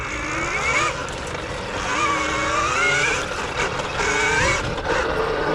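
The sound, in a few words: KTM Freeride E-XC electric motorcycle motor revving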